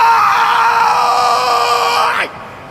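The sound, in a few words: yawn that sounds like yelling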